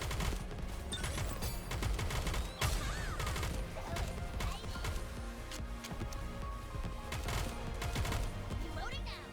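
Rapid gunfire from the video game Nikke, dense bursts of shots and impacts running continuously and loud across the whole stretch over a busy game soundtrack.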